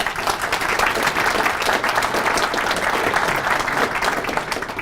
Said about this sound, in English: could I ask everyone to applaud their success?